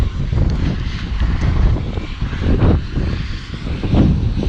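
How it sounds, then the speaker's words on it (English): Strong wind blows outdoors beside a silted pond at an excavation site, buffeting the microphone with a continuous low, roaring rumble that swells and eases in gusts. "you can't hear a word I say if the wind's blowing this bad"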